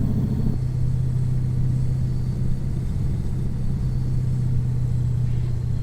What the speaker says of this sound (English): You can hear the retarder and the banana brake going off there.